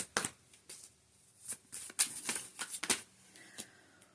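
A deck of playing cards is shuffled up close in a series of crisp riffling bursts and snaps, with short pauses between them and no talking.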